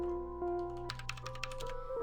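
Computer keyboard keys clatter at a save-point terminal in a video game demo, a quick burst of crisp close taps over a steady droning hum, with no voices.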